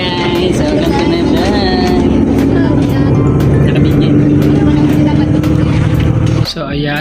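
A C-Bus in Vancouver rumbles steadily from inside the cabin, a loud continuous engine drone with rattles and faint voices, briefly dipping near the end.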